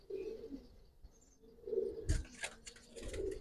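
Giribaz pigeons coo softly in low, rolling phrases at moderate distance, with a brief burst of rustling and wing movement partway through.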